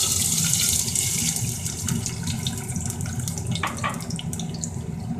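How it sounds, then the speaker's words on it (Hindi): Half a cup of milk is poured into a pan of zarda, a sweet rice dish, giving a continuous liquid splashing and trickling that runs steadily throughout, close and moderately loud. "अब हम इसमें आधा कप दूध डालते हैं।"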